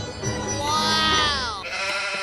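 A goat bleats loudly and close by in one long wavering cry that fades out, followed by softer background sounds, in a comedy skit about stealing a chicken.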